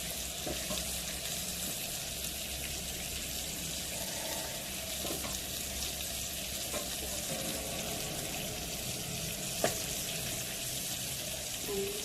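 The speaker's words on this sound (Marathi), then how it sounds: "आता ही मच्छी आपल्याला 3-4 मिनटं मंद आचेवर फ्राय करून घ्यायची आहे." Masala-coated fish frying in a pan over low heat gives a steady, soft sizzle that runs evenly throughout, with a few faint clicks and no talking.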